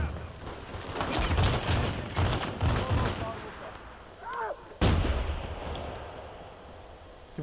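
Gunfire in a Medal of Honor multiplayer match: clustered bursts of shots with rumbling echoes, a pause, then a single loud blast followed by fading reverberation.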